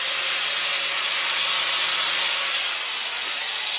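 Angle grinder grinding down protruding screw tips on a wooden crosscut sled for a circular saw, a continuous bright abrasive hiss held steadily for several seconds with no talk.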